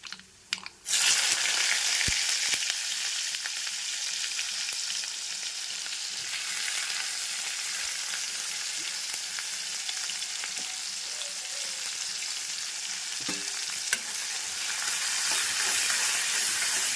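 Onions sizzle and crackle steadily in hot oil in a kadai while okra curry is being made, a dense continuous frying hiss with a few faint clicks, no talk.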